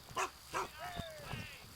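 A dog in the Black Gold video game gives two short barks followed by a whine, fairly quiet, with speech briefly under them.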